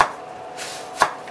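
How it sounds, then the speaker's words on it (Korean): A knife cuts an apple into thin half-moon slices on a board, prepared as a side for beef bulgogi skewers; two crisp, separate cuts sound close, one at the start and one about a second later, with no talking. "얇은 반달러 썰으셔서요."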